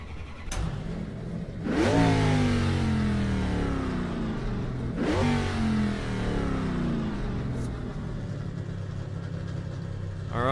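A race car engine in a video game revs up twice in rising, whining sweeps, then settles into a steady rumbling idle, loud and close.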